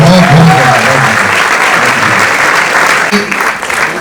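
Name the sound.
audience applause for Sonu Nigam at a press event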